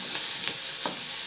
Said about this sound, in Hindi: हल्दी डाल दी है। अब इसे और थोड़ा सा फ्राई करेंगे